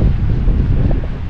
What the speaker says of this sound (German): Windig ein bisschen, aber nur leicht windig.